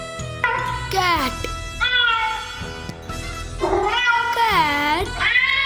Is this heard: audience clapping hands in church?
no